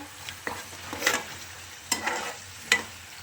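Onion and green chili sizzle in a pan for a matar paneer dish, a soft steady frying hiss broken by a few sharp scraping stirs of the spoon, close and without voices.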